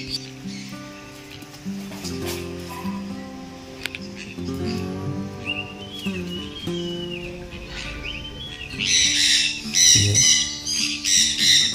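Birds at Sidkeong Tulku Bird Park in Pelling, West Sikkim, squawk repeatedly in harsh, close calls over a busy background, growing louder and denser toward the end.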